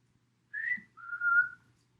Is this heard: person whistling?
yes